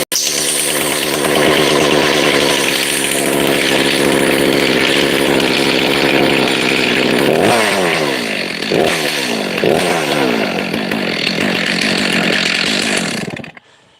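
A Stihl-style M-tronic chainsaw, used for cutting firewood, roars at full throttle close by, then its pitch sweeps down and up in several revving bursts before the engine cuts off abruptly near the end.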